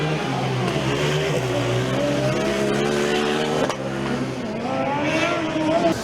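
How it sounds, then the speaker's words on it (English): A Formula Student race car laps the track during an endurance session, its engine holding a loud, steady buzzing whine that climbs and drops through gear changes as it passes close by. "So a new car comes on track"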